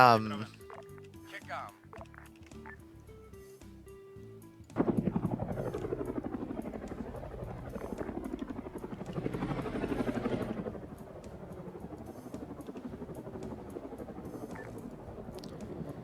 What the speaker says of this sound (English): I need a helicopter.